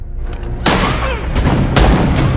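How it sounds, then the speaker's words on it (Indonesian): Gunfire in an action film shootout, with loud, booming shots in quick succession over a dense, rumbling background. "Hal tersebut membuat mafia itu kesal dan terjadi adegan tembak-tembakan."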